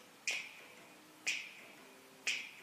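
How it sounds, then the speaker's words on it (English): Three crisp finger snaps, evenly spaced about a second apart, close and clear against a quiet room during a seated senior chair-exercise routine. "How about snapping your fingers?"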